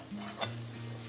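Sliced zucchini stir-fries with salt in a hot pan, a steady close sizzle with a brief scrape of stirring partway through.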